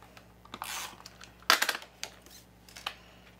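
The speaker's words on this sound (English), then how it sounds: "So I'm going to use some Tonic Funky tape, which is my favourite tape runner on here." Tape runner laying Tonic adhesive tape on card stock for a handmade card, a few short close clicks and a brief scratchy burst, quiet surroundings without talk.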